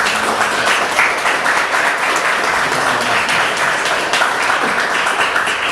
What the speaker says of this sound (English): how about a round of applause for our great speakers?